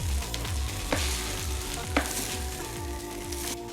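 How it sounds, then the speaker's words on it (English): Pineapple fried rice sizzles steadily in a hot pan, with a few sharp scrapes and stirring knocks over the constant frying hiss. "Make sure that the rice does touch the bottom of the pan"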